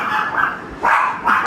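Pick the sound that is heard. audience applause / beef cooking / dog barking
dog barking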